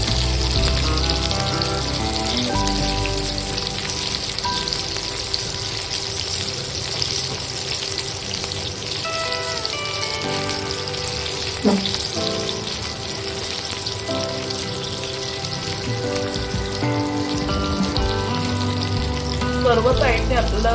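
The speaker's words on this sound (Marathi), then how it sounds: "सर्व साईडने आपल्याला छानपैकी फ्राय करून घ्यायचं।" Stuffed green chillies frying on all sides in a pan, a dense, steady crackling sizzle close up that continues throughout with occasional small pops and the clatter of turning.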